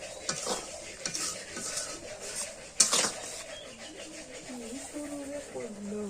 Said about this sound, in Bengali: অল্প অল্প করে পানি দেই আর কষাই, নাহলে ভুড়ি ফুটে ফুটে উঠে।